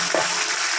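Onions fry in a pan at a party cook-up, making a loud, dense hiss that holds steady through a brief moment with one soft clatter near the start.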